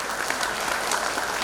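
An audience at a joint ecumenical Christmas celebration in Malang Regency claps steadily, a dense, even wash of applause with no talking over it.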